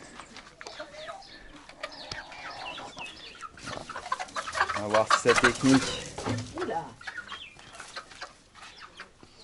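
Rooster and hens on a farm clucking and squawking in bursts that grow busier midway, mixed with people talking and a short exclamation.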